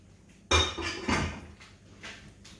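A frying pan set down on a kitchen counter: two distinct metallic knocks close by, then a fainter clunk as it settles.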